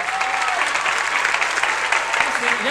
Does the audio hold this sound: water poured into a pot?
no